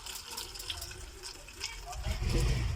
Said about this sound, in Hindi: ये पानी भी इसका जो है वो आवाज़ भी आ रही होगी आपको